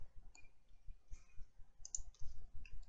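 A computer mouse gives several soft, sharp clicks at close range, spaced irregularly, in a quiet room with no talking.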